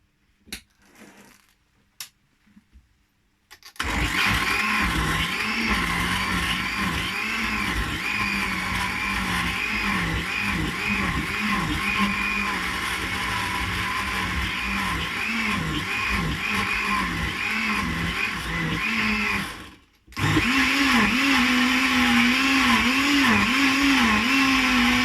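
A blender whizzes lemon into tomato sauce, a loud, steady whirring drone that starts abruptly, runs for about sixteen seconds, cuts out briefly, then starts again, with no talking.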